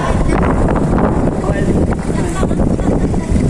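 Loud, continuous wind buffeting the microphone at Salomague Seaport in Cabugao, Ilocos Sur, with a roaring rumble, steady throughout, with faint voices under it.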